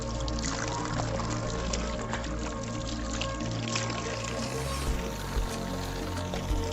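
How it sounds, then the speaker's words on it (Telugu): Hill spring water runs continuously out of a pipe in a tribal village, making a steady close-up pouring and splashing rush over a low hum, with no talking. "నిరంతరం కూడా ఈ వాటర్ అనేది ఇలా వస్తూనే ఉంటుంది"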